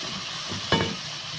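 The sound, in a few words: potatoes being added to kofta curry gravy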